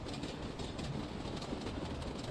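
A model train runs on a home model railway layout, giving a steady, fairly quiet rolling clatter of small wheels over track joints throughout.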